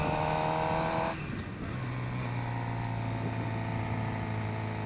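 A 2011 Suzuki GSX-R600 sport motorcycle engine revving, a high steady tone that drops off sharply, then settles into a lower sustained hum, close and fairly loud with no speech.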